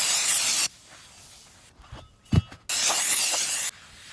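Brake cleaner sprayed onto the brake disc of a Ford Fiesta Mk6 during a caliper replacement: two sharp, loud hissing bursts of aerosol, each under a second, separated by soft handling clicks and a thud.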